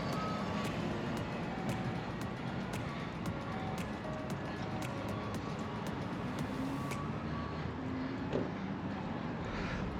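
Steady truck reversing beeps repeat in an even rhythm across a shopping center parking lot. They sound moderately distant over a constant wash of outdoor traffic and ambient noise.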